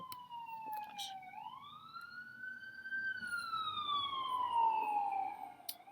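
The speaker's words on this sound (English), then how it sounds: "Damn ambulance." An ambulance siren passes outside, its wailing tone rising and falling steadily and growing louder before fading, with a low background rumble and no talk over it.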